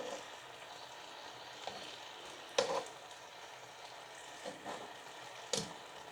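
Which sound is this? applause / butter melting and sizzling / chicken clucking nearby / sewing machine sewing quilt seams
butter melting and sizzling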